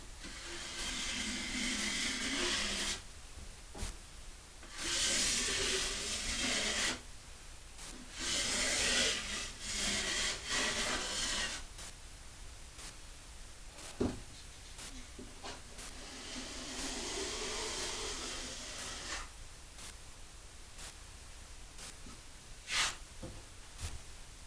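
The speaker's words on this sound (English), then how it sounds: "Just to smooth it out, and I'll grab the metal trowel for this." A metal trowel smooths drywall mud in a laundry room, making long scraping swishes in repeated strokes separated by short pauses, with no one talking.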